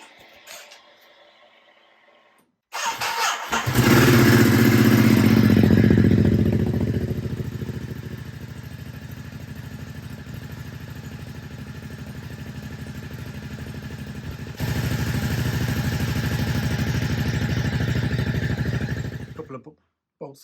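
A 2022 Ducati HyperMotard 950 SP motorcycle on its stock exhaust fires up after a short quiet moment, flares loudly, then settles into a steady, close idle before a second rise in revs near the end.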